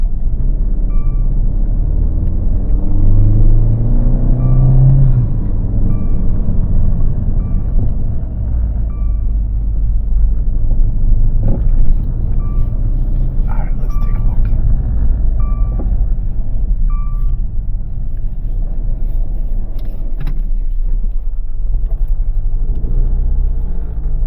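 A Dodge Dart with a turbocharged MultiAir engine and automatic transmission drives along, its steady low engine drone and road rumble filling the cabin continuously and fairly loud, with faint knocks and rattles now and then.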